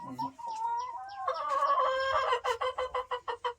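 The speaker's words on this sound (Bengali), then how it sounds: "চাল গম খাওয়া মুরগিগুলো টেস্ট হয় ভালো" Several chickens raised on rice and wheat cluck and squawk close by at a Bengali home, with a run of rhythmic, repeated clucks building toward the end; no speech.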